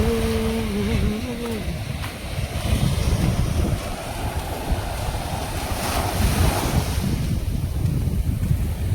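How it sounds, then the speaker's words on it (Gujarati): Sea waves roll steadily onto a village shore at Mangrol harbour. The surf makes a loud, continuous wash that is buffeted by wind noise against the microphone, and a brief tonal hum can be heard near the start. "તો કંઈક આવું દરિયા કિનારો છે અમારા ગામનો"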